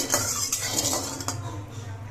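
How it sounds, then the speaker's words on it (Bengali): A metal spatula stirs and scrapes hot oil around a kadai while fish are being readied for frying, giving a few quick metallic clinks and scrapes over a soft steady hiss. "খুন্তি দিয়ে নেড়ে নিয়ে কড়াইয়ের তেলটা চারপাশে লাগিয়ে নিচ্ছি"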